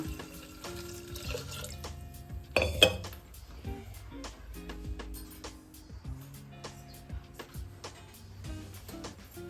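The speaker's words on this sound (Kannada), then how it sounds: "ನೀರು ಹಾಕೊಳ್ಳೋಣ." Water is poured over about a quarter kilogram of jaggery in a metal kitchen vessel, a steady pouring stream broken by sharp clinks and knocks of the pot.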